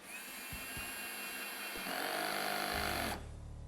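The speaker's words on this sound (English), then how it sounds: "We'll first start off by setting number 2 on the drill and drive in a screw." A Milwaukee cordless drill on clutch setting 2 whirs steadily, its motor pitch rising as it drives a screw in, then cuts off abruptly near the end.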